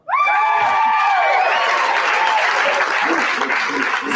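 Loud, steady applause and scattered cheers rise from a comedy-show audience the moment the question ends, a dense wash of clapping lasting about four seconds with a few whoops on top.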